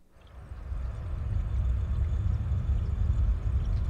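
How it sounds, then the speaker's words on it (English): A synthesized drone from the Sample Logic Trailer Expressions 3 library swells in over the first second into a dense, low rumbling sustained tone that holds steady and loud, alone. "This drone sounds like this."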